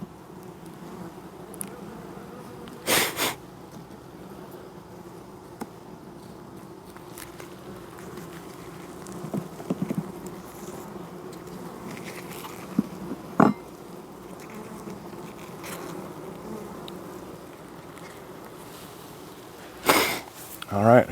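Honeybees from a healthy opened hive, checked for brood and the queen, hum as a steady low drone throughout, with occasional closer buzzes and handling knocks and talk over the top.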